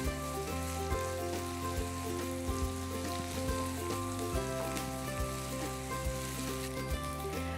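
Ginger garlic paste sizzling in a pan, a dense crackling fry heard close with a low tonal hum running beneath and occasional stirring knocks.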